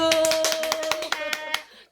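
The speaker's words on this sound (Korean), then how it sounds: "강사님한테 어, 정말 감사의 박수 한번 보내드립시다. 박수!" Brief round of applause for a massage instructor after a demonstration, a quick burst of claps from a small group that thins out and stops within two seconds, with a faint tonal hum beneath.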